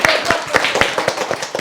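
A school class applauds together, a fast, fairly even run of claps at moderate distance that keeps going steadily without pause for the whole moment.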